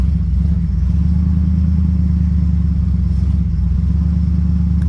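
A Chevelle engine idling steadily without a choke, a loud, continuous low rumble with an even rhythm and no talking over it.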